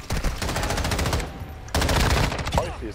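Rapid automatic gunfire in a Warzone 2 match, dense close bursts of machine-gun shots nearly filling the clip with a brief gap in the middle, a voice faintly underneath.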